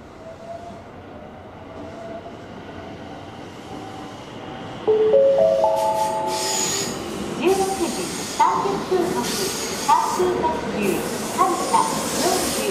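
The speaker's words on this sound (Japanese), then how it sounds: "回送列車発車いたします。" A JR 207 series train pulls away from a busy platform at Shin-Osaka Station, a low rumble building with hissing air bursts and squealing wheels, while a Japanese station announcement of an out-of-service train departing plays underneath.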